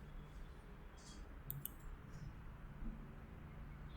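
A few soft computer mouse clicks while working in 3ds Max, faint and brief, heard near the middle over a steady background hiss.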